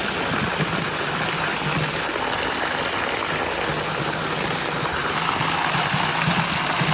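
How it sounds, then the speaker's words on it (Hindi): A strong, cold mountain stream in Kashmir rushes past at close range, a loud and unbroken roar of churning water with steady turbulence and no voices. "Look at the brutal force of this water"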